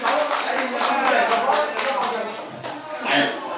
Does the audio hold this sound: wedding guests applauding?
yes